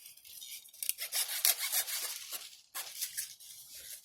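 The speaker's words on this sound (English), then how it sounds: "We're going to get the handsaw here." A handsaw cuts through small branches in quick back-and-forth rasping strokes, close and fairly quiet, with a brief pause partway before the strokes resume, with no talking.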